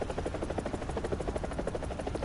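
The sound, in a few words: helicopter flying in the video game War Thunder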